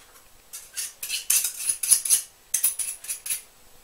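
Wooden spoon scraping and clattering in a bowl while mixing a cream cheese tart filling, a series of quick bright strokes in two bursts, close and fairly quiet, with no talking.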